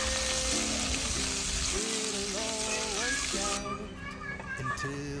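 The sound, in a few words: mustard seeds spluttering in hot coconut oil in a pan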